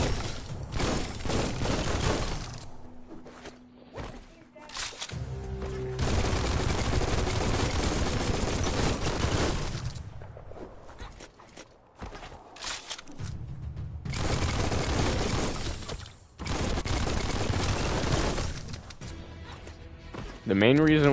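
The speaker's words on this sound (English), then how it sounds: "Bullets go burr. Ow. This is a big magged gun." A big-magazine gun fires in long sustained bursts in the video game Biomutant, broken by short pauses, while someone talks over much of the shooting.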